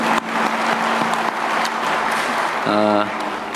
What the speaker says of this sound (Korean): 우리 박수나 한번 보내주시면 더 열심히 일하실 것 같습니다